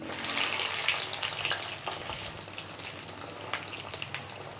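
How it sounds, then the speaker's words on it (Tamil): Egg kebabs fry in oil heated to medium, giving a steady, close hiss of bubbling oil with small pops and crackles throughout, and no voices. "இப்போ நம்ம ஆயிலில் போட்டு ஃப்ரை பண்ணி எடுத்துடலாம்"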